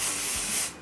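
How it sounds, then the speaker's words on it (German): Hair oil spray misted into hair from a pump bottle, a single close, steady hiss lasting most of a second before cutting off. "sprühe ich einfach heute alles rein, was geht"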